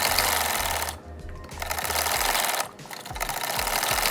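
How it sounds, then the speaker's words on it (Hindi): A sewing machine runs in close, loud bursts of rapid stitching through kurta fabric, with two short pauses between runs. "इसको मैं सिलाई लगाऊंगी"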